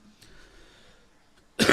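A single close cough with throat clearing comes abruptly at the very end, after quiet room tone with faint rustles.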